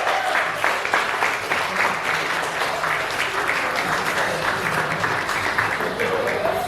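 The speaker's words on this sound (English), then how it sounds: "I think she deserves a round of applause as well" Wedding guests give a warm round of applause for the bride's mother, a dense run of clapping that holds steady throughout with some crowd murmur and a voice underneath.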